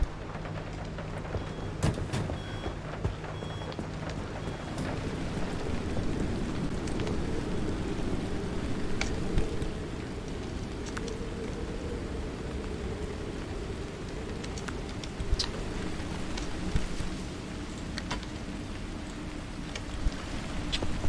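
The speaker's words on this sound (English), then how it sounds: "It's raining in." Steady rain in the game Pacific Drive hisses continuously at a constant level, with scattered small taps and a low rumble underneath.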